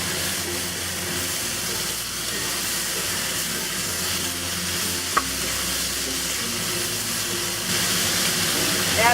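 Tofu, okra and mushrooms stir-fried with hoisin sauce, white pepper and Shaoxing wine sizzle steadily in a hot pan while being mixed, a continuous hiss with occasional scraping of the utensil, close and without talk.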